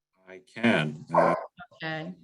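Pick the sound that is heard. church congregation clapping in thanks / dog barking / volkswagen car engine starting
dog barking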